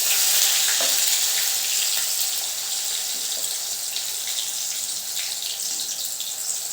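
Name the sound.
chopped tomato sizzling in oil with mustard seeds and cumin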